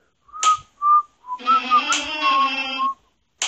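A person whistles short, clear notes, then a longer wavering tune, ending with a brief breathy sound, while playing Baldi's Basics.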